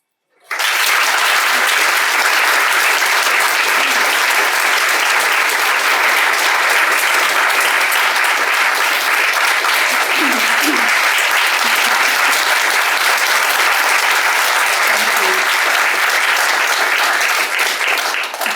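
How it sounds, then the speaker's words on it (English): Lecture audience bursts into sustained, dense applause that begins abruptly and holds steady and loud throughout, with faint murmurs beneath the clapping. "Don't clap yet, you haven't heard the lecture."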